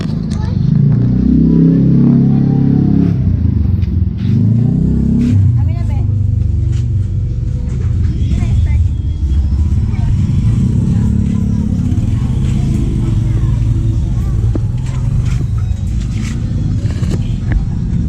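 A motorcycle engine running steadily with a low rumble that swells and eases a few times near the start, loud and close, while people talk over it.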